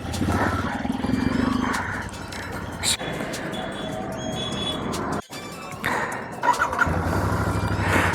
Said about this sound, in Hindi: बाइक अपनी कोल्ड स्टार्ट कर ली है।